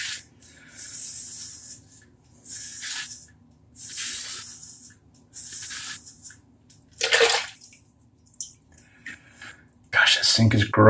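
Razors are rinsed in a bathroom sink in short bursts of running, splashing water, several separate spurts broken by quiet gaps, close and fairly loud.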